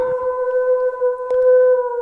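A wolf howl sound effect holds one long steady wailing tone, loud and sustained, with a few faint clicks and no voices.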